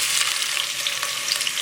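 Onions and cashews frying in oil in a pan for coriander pulao, a steady close hiss of sizzling with light stirring scrapes throughout, no voices.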